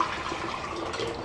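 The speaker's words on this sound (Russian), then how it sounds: "Так, переливаю сюда." Liquid pours steadily into a container during a home chemistry experiment extracting copper and gold from coal ash solution, a continuous close splashing trickle with no talk.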